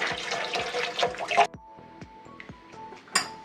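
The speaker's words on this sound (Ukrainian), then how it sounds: "Включаємо воду і дивимося, чи нема дирок." Warm tap water running through homemade sausage casings as they are rinsed and checked for holes, a busy splashing gush for the first second and a half, then sparse drips and small trickles with one more brief splash near the end.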